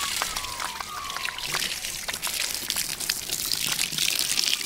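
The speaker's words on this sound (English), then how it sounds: "So just keep adding water." Water poured steadily into lime being slaked, a close, continuous trickling and splashing with a thin hiss of bubbling running throughout, no voices.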